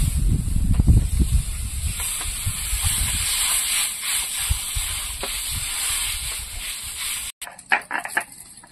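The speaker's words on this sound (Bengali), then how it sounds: "এবার জলটা দিয়ে দেবো।" Water is poured into a hot pan of mango curry seasoned with turmeric and salt, setting off a loud hiss and bubbling sizzle that settles into a steady simmering hiss, broken by a short cut near the end.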